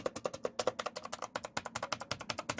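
Rapid, steady clicking of keys on a Rampage KB-R95 X-Titan mechanical keyboard, close and crisp, with quick evenly spaced keystrokes and no talking.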